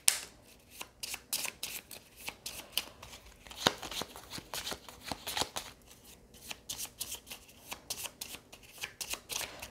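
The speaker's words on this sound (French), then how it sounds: "je mélange les cartes de ma zone de jeu" Playing cards from a solo game of the board game Lost Ruins of Arnak are shuffled by hand in repeated quick riffling bursts that run steadily for about ten seconds, close up and with no talking.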